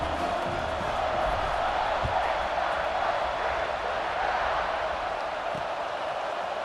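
Steady roar of a football stadium crowd at Purdue versus Ohio State, a dense continuous wash of voices and cheering that holds at a constant level throughout.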